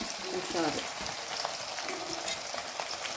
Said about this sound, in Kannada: ಬೆಳ್ಳುಳ್ಳಿ ಜಜ್ಜಿಬಿಟ್ಟು ಹಾಕಿ, ಇಲ್ಲಾಂದರೆ ಪಟ್ ಅಂತ ಹೊಡ್ಕೊತಾ ಇರ್ತೈತೆ ಎಣ್ಣೆ ಹಾಕಿದಾಗ